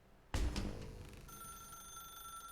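A telephone in the video game The Stanley Parable gives one sudden loud jolt, then settles into a continuous electronic ringing tone in a quiet, dim-sounding room.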